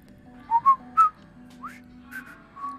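Someone whistles a short, halting melody, a few bright rising and falling notes with gaps between them over a faint steady hum.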